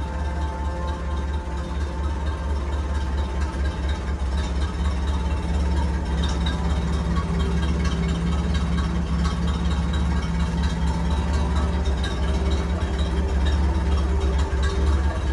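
A rebuilt 1929 Ford Model A Roadster engine idles steadily and close by, with a continuous low rumble and even, unbroken tone throughout, shown among vintage Ford cars and trucks.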